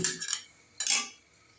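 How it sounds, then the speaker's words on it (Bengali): A metal lid is set onto a cooking pot for a crab curry, making two quick clanks close by, with quiet between and after. "ঢাকা দিয়ে দিচ্ছি।"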